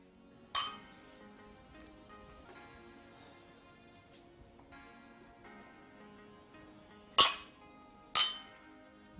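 Glasses clinking together in a toast, three bright, ringing chinks spread apart with short fading tails, heard over a faint, soft musical background.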